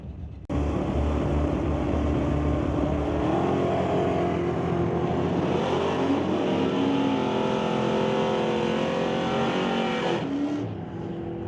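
Drag race cars launch and roar down a quarter-mile strip at Mission Raceway Park in a JBS Equipment ET Series race, a sudden loud engine blast that holds, rises in pitch, then cuts off.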